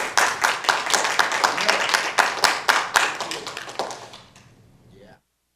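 A small group at a Sacramento city council meeting claps in quick, dense hand claps that hold steady for several seconds, then thin out and fade to silence.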